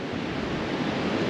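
Sea waves roll and break steadily on a long sandy beach in Bangladesh ahead of a storm, a continuous close wash of surf mixed with wind noise.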